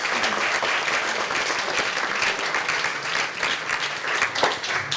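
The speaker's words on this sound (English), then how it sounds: "a round of applause" An audience claps steadily after a series of short conference talks, a dense, continuous round of applause with no speech over it.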